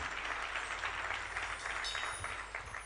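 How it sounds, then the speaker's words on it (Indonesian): A church congregation at a revival service claps together in steady, dense applause that runs throughout at an even level. "Tepuk tangan untuk nama Tuhan."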